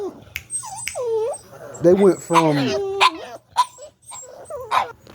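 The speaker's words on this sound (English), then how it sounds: "Excuse my dogs. They just seen a dog." Several dogs barking, yipping and whimpering excitedly at another dog, loud and close, in irregular bursts mixed with someone talking over them.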